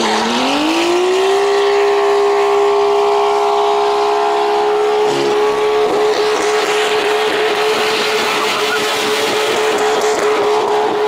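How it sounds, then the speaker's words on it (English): Nissan R32 Skyline attempting a burnout at full steering lock, its engine holding a loud steady high rev while the tires spin, with scrabbling tire noise growing in the second half; no talk over it. "try to start in a burnout, go to full lock, and then let off the brake and see if it'll do some donuts"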